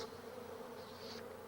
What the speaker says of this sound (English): the scout bees are back at the hive, busily sharing their discovery with the other bees